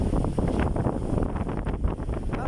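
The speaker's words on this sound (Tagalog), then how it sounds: "Malakas ang hangin." Strong sea wind buffets the microphone aboard a small fishing boat out on open water in bad weather, a loud, constant roaring rumble with gusting surges and no voices.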